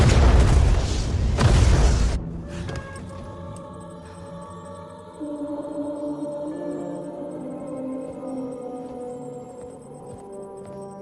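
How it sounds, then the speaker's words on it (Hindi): Missile explosion in a Hindi action movie scene, a loud booming blast lasting about two seconds that cuts to a dramatic sustained music score. "30 सेकंड में धमाका हो जाएगा।"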